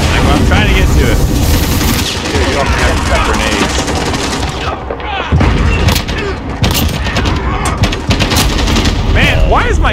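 Rapid gunfire and booming blasts from a chaotic eight-player-per-team Call of Duty match, loud and continuous with bursts and explosions, while someone talks over the action.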